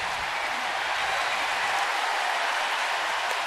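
Crowd at a Cubs–Nationals baseball game in Washington on the Fourth of July roaring, a steady broad wash of cheering and noise from tens of thousands of fans with no pauses, no one speaking nearby.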